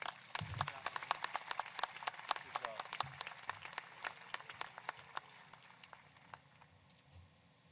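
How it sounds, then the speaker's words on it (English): Graduation ceremony audience applauding in a large hall, a crisp, steady clatter of many hands that keeps going and slowly thins toward the end, a few distinct claps standing out near the close. "Will you join me in giving those three just outstanding young ladies another round of applause, please?"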